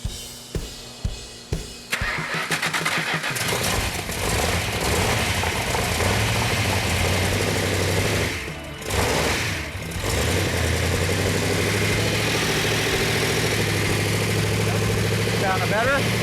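A few sharp pops, then a 400 Magnum engine on a test stand catches and runs steadily at a loud, rough idle, dipping briefly before settling again.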